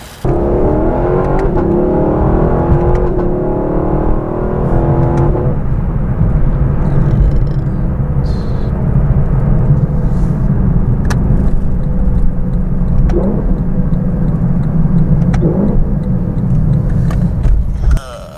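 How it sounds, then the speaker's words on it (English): A Lexus LC500 V8 revs hard, its loud, deep exhaust note rumbling continuously and close by for the whole stretch, with no talking. "That exhaust note every time. So when gassing this car, it gives me a Corvette C7 feeling."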